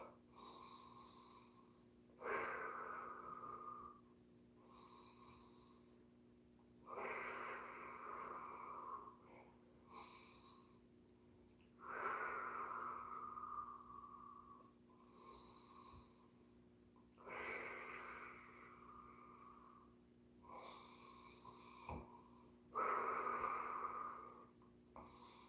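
Deep, rhythmic breaths during a breathwork exercise with arm rotations come as long, forceful inhales and exhales roughly every few seconds, close and raspy, with no talking.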